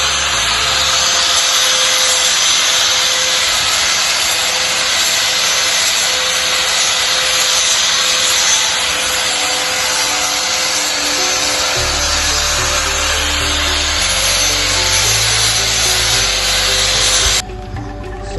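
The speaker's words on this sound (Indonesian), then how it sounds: "sekarang dihaluskan pakai amplas," An electric grinder fitted with sandpaper smooths a wooden kite part in a continuous loud whirring rasp, close up, the motor pitch dropping partway and cutting off near the end.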